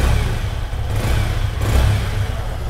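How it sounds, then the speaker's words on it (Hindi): A 2024 Yamaha MT-15 motorcycle engine runs steadily nearby, its exhaust note a continuous low, throaty rumble with slight swells in revs and no talk over it. "एग्जॉस्ट नोड भी सेम है"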